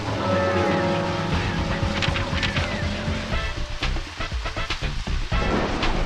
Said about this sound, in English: Oh, of course it would rain.